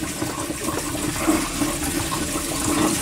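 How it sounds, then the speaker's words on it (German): Water pours and splashes continuously into an aquarium being refilled, a steady, close rushing sound lasting a few seconds with no voices. "Ich muss natürlich Wasser nachfüllen, ist eh klar."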